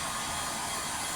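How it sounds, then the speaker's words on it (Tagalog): A hair dryer runs steadily at close range, a dense continuous breathy whoosh with a constant motor hum and no breaks. "Oh, blower."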